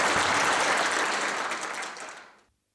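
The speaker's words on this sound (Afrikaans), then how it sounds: "kom ons gee vir haar ook 'n hande klap" A church congregation at a baptism service breaks into dense, steady applause, loud and close, which holds for about two seconds and then fades quickly to silence.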